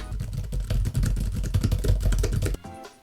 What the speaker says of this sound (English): However, I do have a wireless keyboard that's functional.